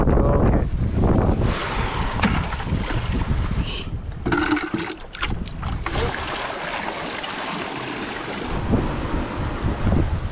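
Strong wind and crashing Indian Ocean waves on the coast near Perth, Australia, roar loudly and continuously, with heavy gusts buffeting the microphone throughout and no voices.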